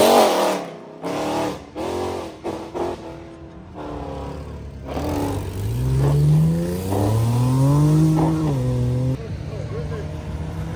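Cars accelerating away from a car meet in the rain, engines revving with rising pitch and tyres hissing on wet road, fairly loud and close, with people talking over it.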